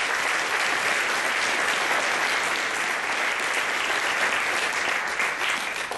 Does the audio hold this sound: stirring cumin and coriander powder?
no